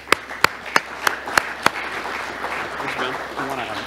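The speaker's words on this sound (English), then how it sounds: "Can please everyone give me a round of applause, help Ron come in." Audience applause for a keynote speaker opens with six sharp, evenly spaced claps close by, then fades into a softer, diffuse wash of clapping as talking begins.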